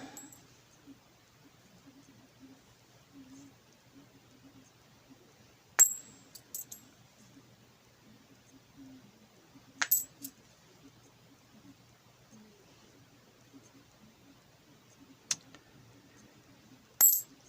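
Old coins being sorted, with a few sharp metallic clinks and drops spaced several seconds apart against a very quiet room and faint low murmuring.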